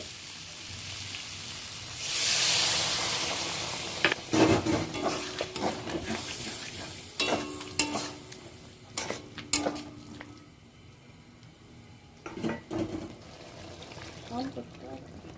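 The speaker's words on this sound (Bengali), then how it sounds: "এবার আমি জল দিয়ে দেব।" Water poured into a pan of sizzling potol, potato and soybean curry, a splashing rush followed by scattered clanks and scraping stirs, close and moderately loud, with a voice talking over parts of it.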